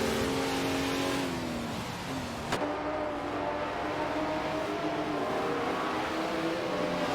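AI-driven race cars circle a track in a racing game, their engines whining steadily with shifting pitch and a brief gear change, continuous and moderately loud throughout.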